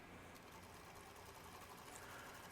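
A sewing machine stitches a skirt pocket seam, a close, steady whirring run of stitching at even speed with no talk.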